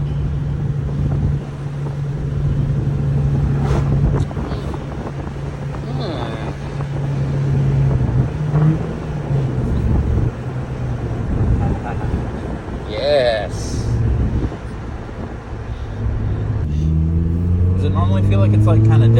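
A 2007–08 GD3 Honda Fit Sport fitted with an Injen cold air intake drones steadily while driving, engine pitch rising and shifting near the end, with wind and road noise throughout and occasional voices in the cabin.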